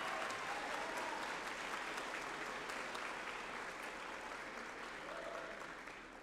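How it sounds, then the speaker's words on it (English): A crowd at a high school graduation ceremony claps steadily, a dense, even patter that slowly fades toward the end, with faint voices mixed in. "You can clap for that, that's great."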